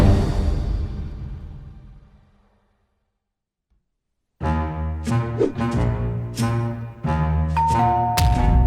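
A house doorbell plays a clear ding-dong chime several times in a bright repeating pattern, loud and close, following a fading sound and a short silence.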